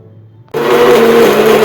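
Electric mixer grinder grinding masala paste, switching on abruptly after a short quiet hum and then whirring loudly and steadily at close range.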